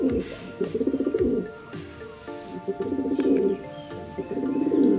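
Pigeons in a home loft cooing in repeated low, throaty bursts, close and fairly loud, with short pauses between phrases and faint chirps behind.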